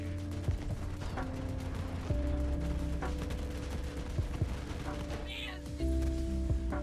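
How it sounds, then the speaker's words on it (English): Dense gunfire from a Jakobs assault rifle in Borderlands 3, with rapid bursts and booming explosions layered over steady music-like tones, continuous and loud throughout. "Jeez, there's so much explosions going around. There's explosions afoot."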